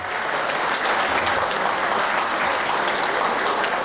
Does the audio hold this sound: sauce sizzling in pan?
no